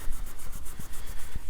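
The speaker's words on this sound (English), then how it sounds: "So we're using Abranet sanding strips here." Close, steady rubbing of Abranet mesh sanding strips against a resin pen tube cast with liquid diamonds, a continuous scratchy hiss pulsing in quick regular strokes, with no talking.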